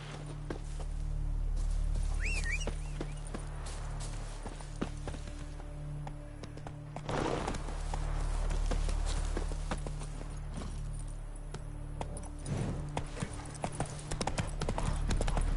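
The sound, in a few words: hoofbeats of Geralt's horse Roach, The Witcher 3 video game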